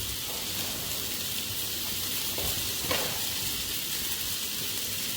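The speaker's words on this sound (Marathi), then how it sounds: "तर यामध्ये आता ही भेंडी आपण यामध्ये टाकून घेतली आहे." Okra dropped into a pan of hot tempering oil with turmeric, giving a steady, close frying sizzle with a faint stirring rise near the three-second mark.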